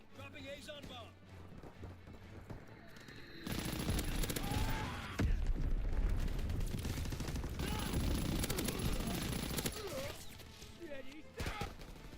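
An Azon bomb drop in the World War II shooter Call of Duty: WWII lands as a heavy burst of explosions and rattling gunfire, loud and sustained for several seconds, with a voice speaking over the opening.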